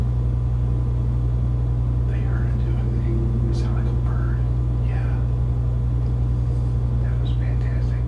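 Soft whispering voices in a supposedly haunted house, faint and scattered over a steady low electrical hum that runs throughout.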